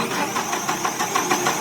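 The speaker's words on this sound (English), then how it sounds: "So you hear it cranking, cranking," A car engine with a PSI electronic fuel system and an intermittent hard-start fault cranks steadily, a close, loud, rhythmic churning repeated in even pulses throughout.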